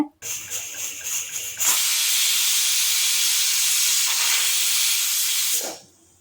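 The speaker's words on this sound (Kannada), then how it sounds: "ಈಗ ಮೂರರಿಂದ ನಾಲ್ಕು ವಿಷಲ್ ತಗೋಬೇಕಾಗುತ್ತೆ" A pressure cooker cooking chickpeas for usli lets out a loud, sustained steam whistle lasting several seconds before cutting off, preceded by a softer hissing rattle.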